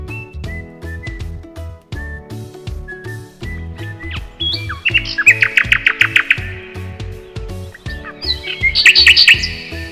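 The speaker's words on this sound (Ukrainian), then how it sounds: "У середині травня прилітають солов'ї." Nightingale song in spring: bright, rapid trilled and whistled phrases rising in loud bursts, clearly heard over steady background music with a rhythmic low beat.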